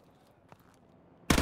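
Call of Duty Modern Warfare Remastered gunfire on a shooting range: a sudden loud, dense burst of rapid shots erupts near the end after a quiet stretch, sounding close and sustained.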